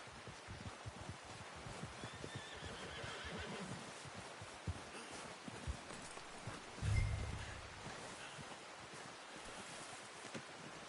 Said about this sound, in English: I'm gonna get this packed on my horse.